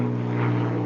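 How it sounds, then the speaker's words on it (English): An airplane drones steadily overhead above a yard beside an irrigation ditch, a continuous propeller-like engine hum with no talk. "There's an airplane. Probably hear that."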